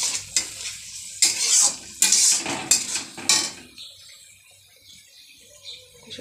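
Tomato, onion and garlic paste sautéing in a pan, with a steady sizzle and several louder scraping stirs of a spoon against the pan that fade to a quieter fry.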